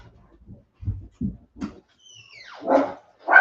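Dogs at home give a few low woofs and short barks, then high whining whimpers and a louder bark near the end, close by with no talk.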